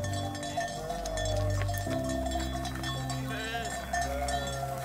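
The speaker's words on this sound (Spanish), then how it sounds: "Son las ovejas de José Sánchez, que está aquí a mi lado" A flock of sheep drinking at a meadow pond, with a mix of bleats and clanking bells, moderately distant and fairly faint amid open-air background sounds.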